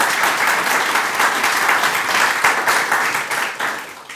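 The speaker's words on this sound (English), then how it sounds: "let's give him a clap again" An audience at a university inaugural lecture claps for the speaker, a sustained and fairly loud burst of applause that tapers off near the end.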